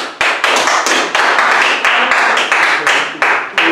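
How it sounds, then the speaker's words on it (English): Audience applause at a village board of trustees meeting: a crowd clapping steadily and fairly close for several seconds, bursts of hand claps with brief surges, no talking over it. "Please refrain from clapping, booing"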